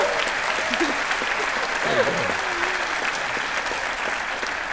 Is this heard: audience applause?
yes